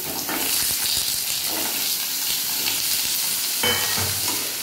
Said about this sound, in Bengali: এবার এই তেলে আমি আমড়াগুলোকে একটু হালকা করে ভেজে নেব।